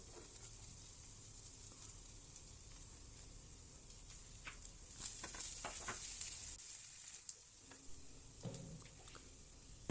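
Garlic sautéing in hot oil in a frying pan, a steady close sizzle with scattered crackles and a few brief stirring scrapes, no talking.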